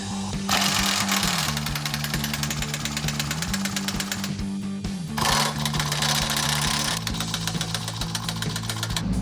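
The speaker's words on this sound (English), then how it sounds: "we're going to use the impact wrench in order to get those bolts in quickly and tight" An impact wrench drives suspension bolts on a 2005-2010 Mustang GT during a Roush Stage 2 suspension kit install. It gives loud, close, rapid hammering rattles in sustained bursts with a few short breaks.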